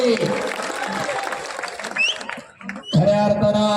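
A crowd claps and cheers steadily at an outdoor wrestling bout in Balewadi, a dense wash of applause with brief lulls.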